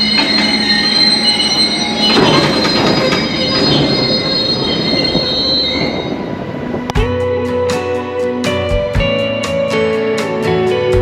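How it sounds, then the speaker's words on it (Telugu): A train pulls into a railway station with loud, sustained high-pitched wheel squeals, then rumbling and a run of rhythmic clanks and clicks as the carriages roll to a stop close by. "ట్రైన్ అయితే వచ్చింది."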